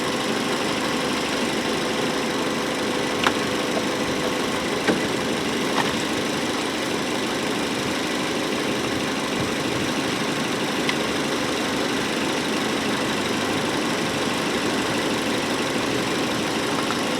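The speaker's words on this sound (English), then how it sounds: "I'm going to let it idle till the cooling fan cycles a couple times" A Hyundai Elantra idles after a thermostat replacement, its engine holding a steady, even hum at close range with a few faint clicks and no talking.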